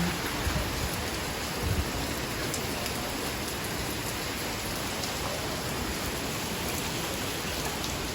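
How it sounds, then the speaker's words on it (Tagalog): Heavy rain pours down steadily, a dense, constant hiss with scattered drops, loud and unbroken throughout. "bumuhos na naman po ang malakas na ulan"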